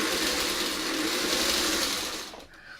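A sewing machine runs steadily and close while stitching pieced quilt block borders, a continuous mechanical whir that stops near the end.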